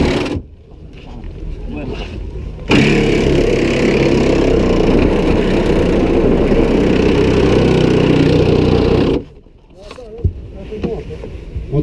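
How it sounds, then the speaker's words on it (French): A reciprocating saw cuts through thin sheet metal at a rescue demonstration, a loud, sustained buzzing rasp running for about six seconds up close, with quieter clatter before and after. "la scie sabre fait son effet dans la tôle"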